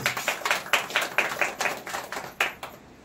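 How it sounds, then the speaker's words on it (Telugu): An audience at a church gathering claps in brisk, fairly even rhythm for about three seconds, a modest crowd heard from a middle distance, with no talk over it. "మరి కొట్టండి చప్పట్లు"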